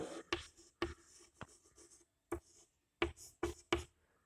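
Pen or marker writing out a geometry proof, a quiet run of short scratchy strokes and taps, spaced irregularly with brief pauses between words.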